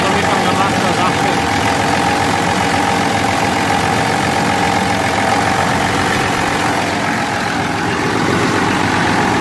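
A Steyr or Ursus C-355 tractor's diesel engine idles loudly and steadily for the whole stretch. The dense, unbroken rumble stays close and masks everything else, and no other sounds stand out above it.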